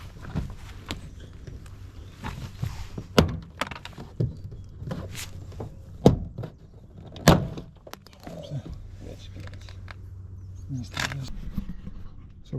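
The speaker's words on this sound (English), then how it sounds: "we will pull on the door card to remove it" Plastic retaining clips snap loose one after another as the door card is pried off a BMW 320d GT F34. Several sharp, close pops are spaced out between quieter rustling and handling sounds.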